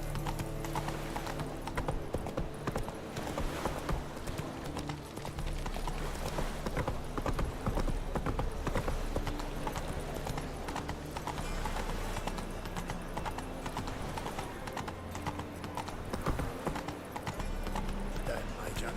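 Roach the horse gallops in The Witcher 3, hooves clip-clopping in a rapid, steady rhythm for the whole stretch, loud and close, over a continuous musical backdrop with an occasional voice.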